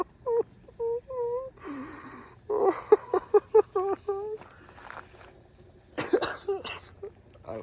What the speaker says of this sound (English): I can't laugh too hard, I'm coughing.